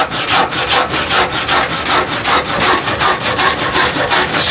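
A freshly sharpened Silky handsaw blade cuts through wood in fast, steady push-pull strokes, each a bright rasping burst, close and loud with no voices.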